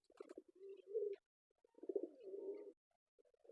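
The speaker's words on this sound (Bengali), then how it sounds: "বিকাল টাইম কবুতরগুলো খাবার খাওয়া খাওয়াচ্ছি" Pigeons coo softly in a few low, rolling phrases with pauses between, heard close by in a quiet afternoon loft at feeding time.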